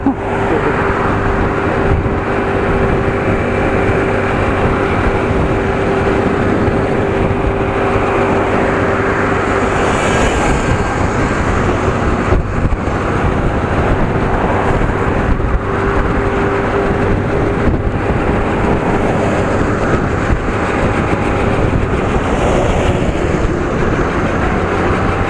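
Yamaha mini motorcycle engine held around 7000 rpm while riding along at low speed, a steady buzzing drone with wind and road rumble running throughout.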